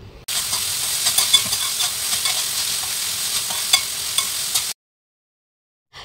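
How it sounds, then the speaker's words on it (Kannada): Onion, capsicum, carrot and tomato fry in oil with a loud, close, continuous sizzle and scattered stirring clicks, which cut off abruptly into silence near the end. "ಅದನ್ನು ಈ ಎಣ್ಣೆಯಲ್ಲೇ ಚೆನ್ನಾಗಿ ಫ್ರೈ ಮಾಡ್ಕೊಳ್ತೀನಿ."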